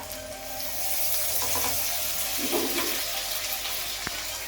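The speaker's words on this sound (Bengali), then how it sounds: "তেলের সাথে আদা রসুন বাটাটা ভালোভাবে ভেজে নেব" Ginger and garlic paste sizzles in hot oil with onion and chili, a steady close frying hiss with faint stirring scrapes and a brief clink near the end, no voices.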